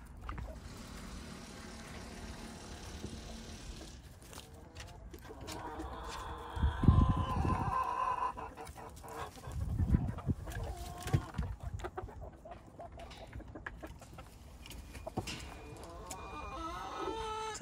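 Backyard chickens and young pullets cluck and squawk close by in a garden, with irregular bursts of louder calls and a few sharp cries over a steady outdoor background.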